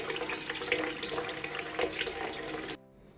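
Water runs from a tap into a cooking pot for fish soup, a steady splashing stream that stops abruptly near the end.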